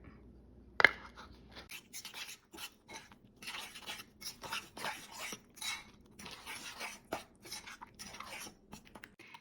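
Spoon stirring light corn syrup, brown sugar and a stick of butter in a bowl for caramel sauce: one sharp clink, then a quiet run of rhythmic scraping and tapping up close, no voices.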